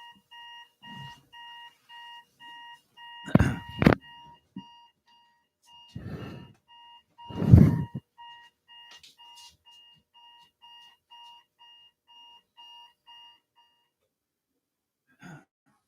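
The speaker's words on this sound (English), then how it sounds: "oh, alarm." An alarm clock beeps in short repeated pulses for several seconds, with a few throat-clearing and mouth noises breaking in between the beeps, before it falls silent.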